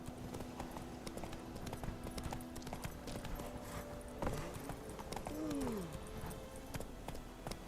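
Roach the horse gallops in The Witcher 3, with quick, rhythmic hoofbeats clattering continuously at moderate volume and a brief whinny-like sweep near the end.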